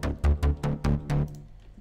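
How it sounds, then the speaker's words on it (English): Distorted synth bass, a bike bass sound for South African deep house, playing six punchy, evenly spaced low notes with a gritty harmonic buzz, each note sustaining briefly before a short decaying tail; heard alone, close and fairly loud. "With distortion"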